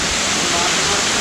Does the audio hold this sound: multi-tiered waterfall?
yes